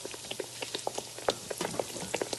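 Donuts cooking in hot oil give a soft, steady bubbling crackle with scattered sharp pops and spits throughout, close and fairly quiet, with no voices.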